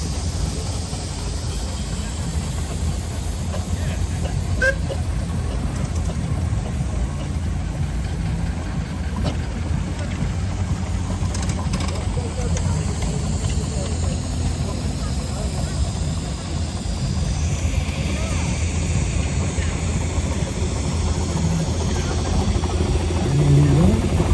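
Steam traction engines parade at the Netley Marsh Steam & Craft Show, giving a continuous loud low rumble of engines running and idling that holds steady for the whole stretch.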